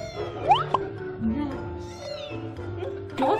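High, thin meows from a small kitten, several short rising cries in quick succession, close by and fairly loud.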